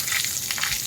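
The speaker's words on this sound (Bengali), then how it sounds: "গরম তেলের মধ্যে দিয়ে দেবো হচ্ছে কালো জিরে" Nigella seeds and green chillies fry in hot oil, giving a brief bright sizzling crackle close by with small bursts of spitting.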